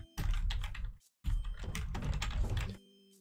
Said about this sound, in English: that is a noisy keyboard right there